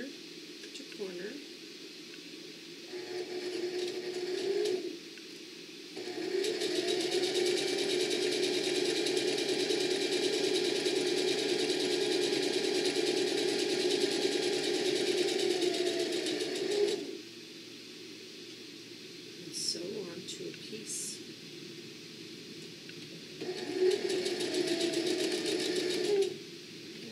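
A sewing machine runs across a fabric bowl from corner to corner in long steady whirring stretches, one lasting about ten seconds, with shorter runs and pauses between, close and moderately loud.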